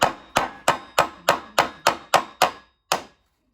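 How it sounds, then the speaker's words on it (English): Hammer strikes driving a nail into wood: ten sharp, evenly spaced blows about a third of a second apart, close and loud, with a short pause before the last hit. "for nailing things together"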